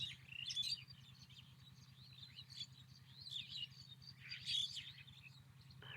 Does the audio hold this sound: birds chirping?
yes